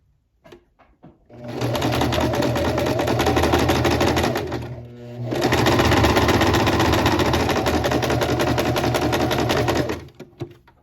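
Sewing machine stitching a tiny seam on doll-sized fabric, running steadily and close for about three seconds, pausing briefly, then running again for roughly four more seconds in a fast, even mechanical whir.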